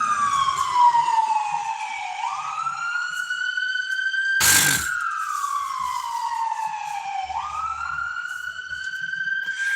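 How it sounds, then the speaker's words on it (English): An ambulance siren wails, rising and falling slowly in long sweeps, loud and steady, with a brief burst of noise midway. "Ambulance."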